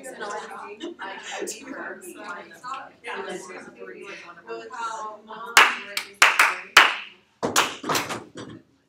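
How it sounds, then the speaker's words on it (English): A few sharp claps and snaps from a small classroom group ring out near the end, following a stretch of someone speaking, with brief pauses between the bursts. "some snaps, some claps"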